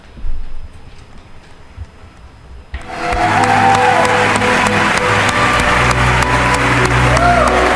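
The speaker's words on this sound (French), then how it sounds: "elle mérite les acclamations" Studio audience bursts into loud, sustained applause mixed with cheering at a French TV segment featuring Miss Intello-Citoyenne 2023, rising suddenly after a few seconds of quieter room sound and continuing steadily to the end.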